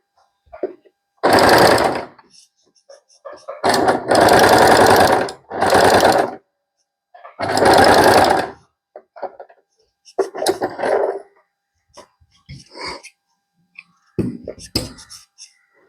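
A sewing machine fitted with a ruffler foot stitches tightly gathered frills, running in loud, close bursts of rapid stitching separated by short pauses, with faint softer sounds between runs.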